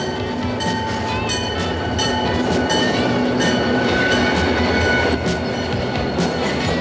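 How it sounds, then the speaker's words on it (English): A freight train rolls past loudly and close, steady rumble with clickety-clack wheel beats and occasional high wheel squeal, no voices. "Freight trains are used to carry all kinds of heavy loads"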